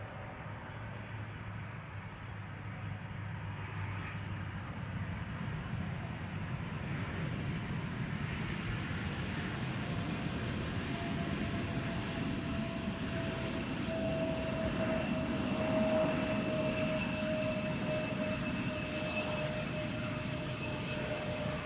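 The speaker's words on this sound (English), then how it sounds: "KLM flight 1070 arriving from Southampton. Embraer 75." A KLM Embraer 175 airliner arriving from Southampton makes a steady jet roar, holding at a moderate distance for about twenty seconds, swelling slightly toward the end, with a thin engine whine above the rumble and no voices.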